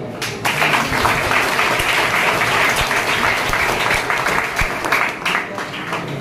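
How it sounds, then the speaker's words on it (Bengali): A crowd of students and staff at a school gathering in Basanti, Sundarban, applauding their teachers, dense sustained clapping for several seconds, loud and close, with some voices mixed in. "অন্যান্য সমস্ত টিচারের জন্য আমরা সবাই মিলে একটা হাততালি দিই"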